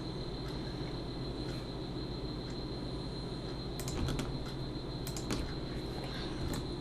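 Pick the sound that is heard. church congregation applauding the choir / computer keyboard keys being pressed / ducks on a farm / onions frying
computer keyboard keys being pressed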